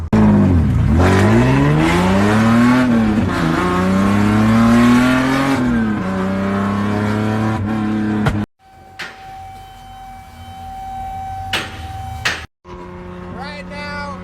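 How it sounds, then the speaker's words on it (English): A BMW E30 with an S52 engine swap, straight-pipe exhaust and 4.10 gears roars loudly on a road test, its engine rising and falling in revs with a rasping tone, then settling to a quieter drone with brief interruptions. "I'm road testing the car to make sure it doesn't overheat or blow up"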